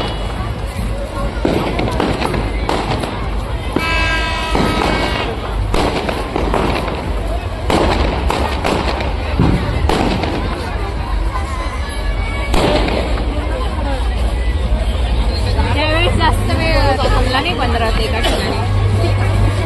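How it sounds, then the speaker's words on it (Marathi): Loud fireworks and firecrackers burst repeatedly in a dense, crackling barrage amid a noisy outdoor crowd at the Shri Ram Rath procession in Nashik, with brief whistling rockets mixed in. "फटाक्यांच्या आतिषबाजीमध्ये"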